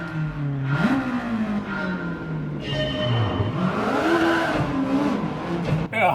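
A Honda EK car launching in Gran Turismo 7, its engine revving hard and climbing through the gears with pitch rises and drops at each shift, loud and close throughout.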